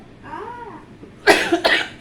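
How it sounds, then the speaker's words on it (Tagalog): Two harsh, close coughs burst out near the end after a quieter stretch with a faint high whine. "Inuubo pa ako, guys."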